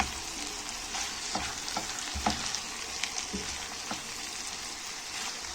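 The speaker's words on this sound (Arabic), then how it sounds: "نقلبه كده تقليبه كده" Peppers frying in a pan with leftover pasta dish ingredients, a steady soft sizzle with scraping stirs and light clinks of the utensil at a moderate distance, no talk.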